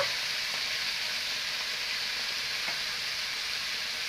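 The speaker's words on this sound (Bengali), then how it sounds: "এটাকে আমি ভালোভাবে ভাজি নেব" Puti fish frying in a pan, a steady hissing sizzle held at an even, moderate level throughout, with no stirring or talking.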